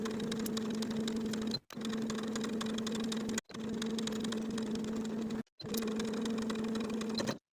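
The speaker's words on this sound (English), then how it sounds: "Sew the binding in place all the way around from center front to center front, just edge stitching close to the folded edge of the tape" A sewing machine edge-stitches binding around the neckline of a boho V-neck top, running in four steady humming bursts with short stops between them, close and alone.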